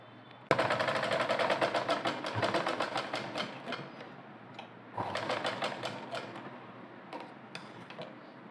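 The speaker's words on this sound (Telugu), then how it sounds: "ఈ పైన మనం ఏ విధంగా అయితే స్టిచ్చింగ్ చేసామో అలాగే స్టిచ్చింగ్ చేసుకోవాలి" A sewing machine stitches fabric tassels in two long runs of rapid, even mechanical ticking, loud and close, with a short pause between the runs and no talking.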